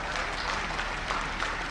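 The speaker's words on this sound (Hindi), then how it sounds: "एनसीसी कैडेट्स के जोरदार तालियों के साथ उनका" Applause from an audience at a public rally in Uttar Pradesh, honoring NCC cadets after their parade. It is steady, dense clapping that holds for the whole short stretch with no voices over it.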